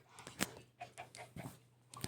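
Chickens in a survival video game give quiet, short clucks in a few scattered bursts, faint and with no talk over them.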